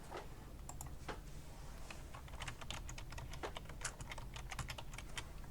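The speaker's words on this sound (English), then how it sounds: "type in our contact information" Steady, rapid keystrokes on a computer keyboard as contact details are typed into an online form, close and clear over a faint background hum, with no speech.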